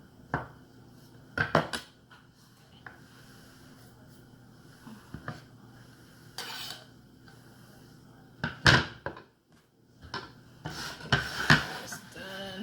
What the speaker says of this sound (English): just gonna put all these in a bowl